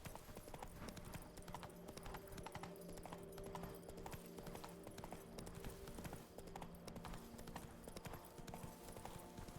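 Roach the horse gallops in The Witcher 3, with a steady, continuous clip-clop of hooves running throughout over a constant game background hum.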